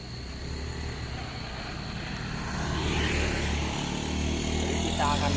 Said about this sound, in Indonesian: Ada motor, bentar.